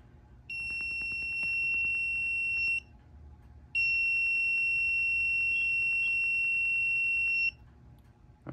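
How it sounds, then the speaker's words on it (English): An electronic buzzer on a student electromechanical project board sounds when a red light turns on: two long, steady, piercing tones, the first about two seconds, then a short gap and a second lasting nearly four seconds, over faint background hum. "whenever the red light turns on, the buzzer is gonna go off."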